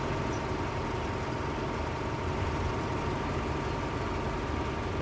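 Tank engine running in the WWII strategy game Codename: Panzer, a steady low rumbling idle with a constant hum, continuous and even for the whole stretch with no talk over it.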